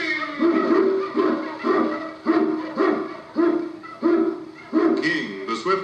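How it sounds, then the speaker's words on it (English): An Eskimo lead dog on a vintage Yukon adventure radio show barks in a steady rhythm of loud, regularly spaced barks, about eight in six seconds, with a howling, hoot-like tone over studio sound effects. "King, the swiftest, strongest of Eskimo lead dogs, blazes the trail through storm and snow"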